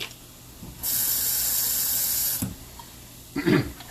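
Cold water runs from a tap for a couple of seconds to half-fill a container of salted cashews, then comes a softer swirling splash. The sound is close and clear, with no talk.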